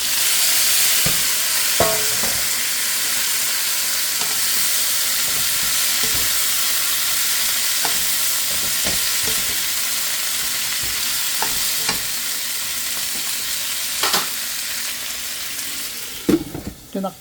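String beans for adobong sitaw fry in a hot, peppered pan with a continuous hiss and sizzle, broken by frequent close stirring scrapes and clacks of a utensil.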